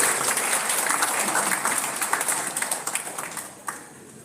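Audience applause at a book launch ceremony, a sustained dense patter of many hands clapping that gradually thins and becomes more scattered toward the end.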